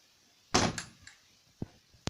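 A door closes with a sharp knock and a quick rattle, then a couple of softer clicks as the locking mechanism fails to hold, all close by in a quiet room.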